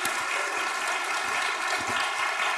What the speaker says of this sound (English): She does deserve an applause.